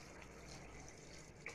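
Water poured from a vessel into a cooking pot of vegetable pulao, a steady soft pouring wash lasting the whole moment at close range, with no talk over it.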